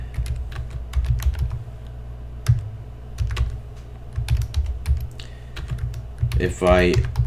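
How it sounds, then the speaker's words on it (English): Fingers typing a title on a computer keyboard, a quick irregular run of close, crisp key clicks with short pauses, a brief voice near the end. "type in a title"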